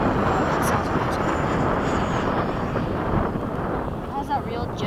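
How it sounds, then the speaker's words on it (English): An E-flite or FMS 80mm 12-blade ducted fan RC jet flies past at the field with a loud, steady broadband whoosh that slowly fades as it moves away, with faint talk near the end. "It has that real jet sound to it when it goes by."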